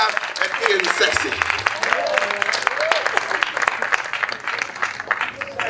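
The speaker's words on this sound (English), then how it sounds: "give yourselves a round of applause for being here" An audience at a book-tour reading in Tulsa applauds, a dense, continuous wash of clapping with scattered cheers, while a voice talks over it throughout.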